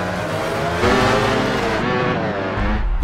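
Racing motorcycle engines from the MotoGP 13 video game roar loudly at high revs, their harmonic whine shifting in pitch as machines race past, with no talking.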